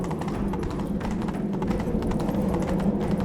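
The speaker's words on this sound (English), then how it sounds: "Another horse race." A horse gallops in The Witcher 3, its steady clip-clop hoofbeats rolling continuously and close by, with no talking.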